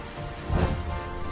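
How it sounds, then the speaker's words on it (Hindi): Heavy rain pours down in a jungle, a steady broad wash lasting a moment, with a low rumble swelling briefly in the middle. "एक दिन जंगल में शदीद बारिश हुई और दरिया में तगयानी आ गई।"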